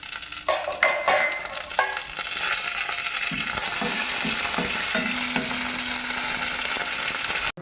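Dried red chillies and curry leaves sizzle loudly in hot oil, with a spoon stirring and scraping against the pan throughout, the crackle steady and close.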